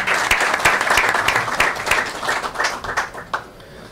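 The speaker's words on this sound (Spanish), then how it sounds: "Un fuerte aplauso." Applause from attendees at a legislative committee session, many hands clapping briskly and close, then thinning out toward the end.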